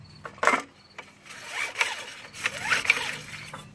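A recoil starter on a Briggs & Stratton 3.5HP push lawn mower is pulled several times, giving short raspy cord zips with no engine catching, close and moderately loud.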